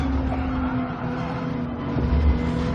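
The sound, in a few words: Nissan GTR race car engine in video game Gran Turismo 7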